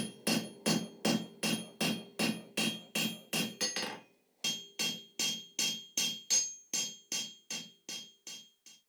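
A cross peen hammer pounds hot steel on an anvil, flattening the end of a bar into a leaf shape for a forged Christmas wreath, with loud, evenly paced ringing blows, a short pause, then another steady series.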